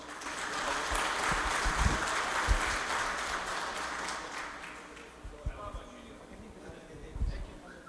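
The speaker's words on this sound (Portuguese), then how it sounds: "Por favor, salva de palmas." Seminar attendees applaud a speaker, a sustained round of clapping for about five seconds that fades out into a few scattered claps and low room noise.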